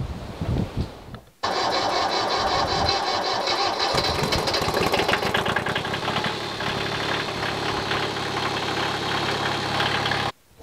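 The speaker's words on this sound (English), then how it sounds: "we'll go and get the tractor started up" A tractor engine cranks and catches on a wet off-grid earthbag building site, then settles into a loud, steady running note close by, with no talk over it.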